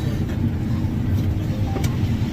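A farm tractor with about 7,100 hours on it, now used for moving dirt, runs at a steady idle, giving a continuous low, loud rumble with no break.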